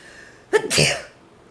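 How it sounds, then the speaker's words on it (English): A single close, loud human sneeze: a sharp inhaled catch followed by an explosive burst that tails off quickly, recorded indoors with no other sounds around it. "I'm gonna sneeze the shit out of some sneezes right up front."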